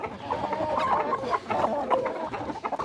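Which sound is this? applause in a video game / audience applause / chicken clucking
chicken clucking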